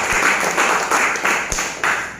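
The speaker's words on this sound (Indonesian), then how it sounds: "Tepuk tangan buat PT Bangun Insan Sukses Amanah." An audience claps at a business presentation for PT Bangun Insan Sukses Amanah. The applause is short and fairly loud, rising and falling in several brief bursts.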